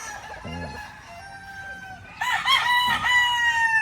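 On a farm, a rooster crows loudly and close by, its long call rising sharply after a quieter, shorter crow from another bird.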